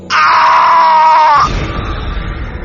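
A horror-story scream effect comes through a phone line: one loud, sustained high shriek of about a second and a half, then it cuts to a dull, muffled line noise.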